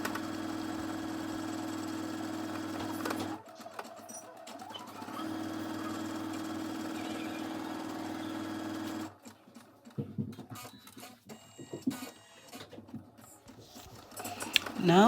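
An embroidery machine stitches a simple bunny design (outline, ears, eyelashes and whiskers) with a steady, close mechanical whir for several seconds, then turns choppier and more irregular, with short bursts and pauses.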